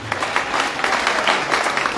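Congregation in a church service clapping together, a dense close burst of applause lasting a couple of seconds with no speech over it.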